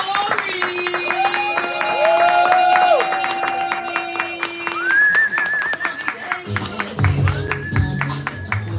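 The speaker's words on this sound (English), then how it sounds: "Y'all are already clapping" Audience at a live poetry event clapping steadily, a continuous patter of many hands under someone talking over tonal music, with the crowd noise carrying throughout.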